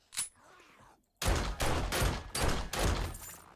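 Gunfire in the video game 7 Days to Die, heard as a rapid burst of four or five loud, close shots in quick succession after a brief faint pop and a moment of near silence.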